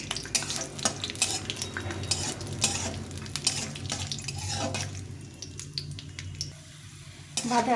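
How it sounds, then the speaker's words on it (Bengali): Peanuts frying in oil over low heat in a home kitchen, a steady soft sizzle with scraping and stirring clatter throughout, close and fairly loud. "অল্প হিটে বাদামটা সবসময় অল্প হিটে ভাজতে হবে"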